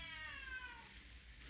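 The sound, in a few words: domestic cat meowing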